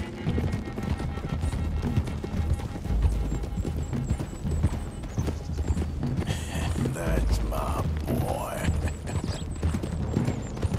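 Horse hooves clip-clop steadily along a road in Red Dead Redemption 2, a dense continuous gait under loud game ambience and music with people talking throughout.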